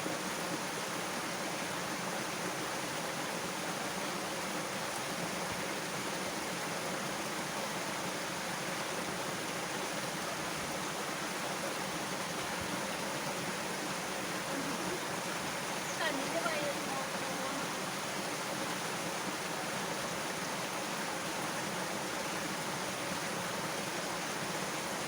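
Water streams steadily while a pet dog gets a bath at home in Kerala, a continuous broad hiss of flow that stays even and fairly close for the whole stretch.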